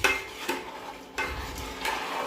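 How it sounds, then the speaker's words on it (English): Spatula stirring hot pineapple jam in a pot, with soft scraping strokes and a faint bubbling sizzle, close and continuous. "You have to stir it continuously."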